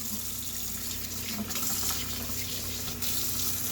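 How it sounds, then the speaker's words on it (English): Tap water streams steadily through a nitro RC engine's foam air filter into a sink, a constant splashing hiss with no pauses and no voices. "So my water is hitting the inside and coming through the outside."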